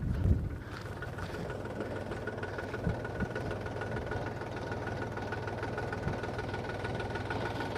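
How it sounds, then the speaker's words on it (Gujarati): A tractor fitted with oversized monster tyres runs steadily on a straight road, its engine droning in a continuous low rumble with a faint whine and occasional knocks, no voices. "હવે જોઈએ આપણું ટ્રેક્ટર કેવી રીતે વર્કિંગ કરે છે મોસ્ટર ટાયરમાં"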